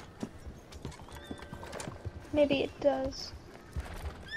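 A horse in Red Dead Redemption 2 gives a few scattered hoof clops and a short, sharp whinny midway, fairly close, while players chat over it.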